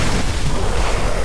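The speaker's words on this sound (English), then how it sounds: "See if this explosion will knock him out." Explosion in the video game In Sound Mind, a loud, dense, sustained roar of rumble and noise filling the whole moment without a pause.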